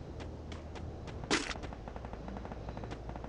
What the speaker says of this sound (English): I'm shooting over here.